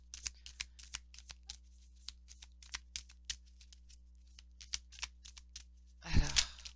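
Oracle cards riffled and shuffled in a long run of crisp, rapid flutters and soft taps, close and fairly quiet, ending in a louder scattering burst as the deck spills.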